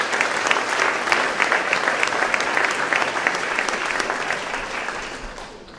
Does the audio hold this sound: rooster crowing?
no